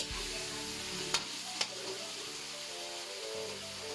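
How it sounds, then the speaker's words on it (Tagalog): Chicken and its marinade ingredients fry in a pan with a steady sizzle, punctuated by two sharp scraping stirs, close and fairly quiet, with no talk. "Halu-haluin lang natin para hindi masunog yung mga sangkap na ating inilagay."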